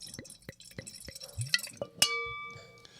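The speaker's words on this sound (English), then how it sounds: "Nice pour." Wine poured into a glass, a short run of drips and light splashes ending in a bright clink and a ringing glass tone, close and quiet.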